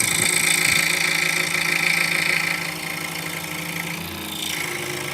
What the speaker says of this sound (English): The new blower I got has 2 speeds rather than 1. And it seems to be working just fine.